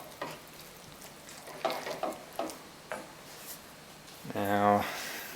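Cream stirred into a bitterballen mixture in a pan: intermittent scraping and soft knocks of a spoon, close, ending in a brief harmonic mechanical whir or voice-like tone.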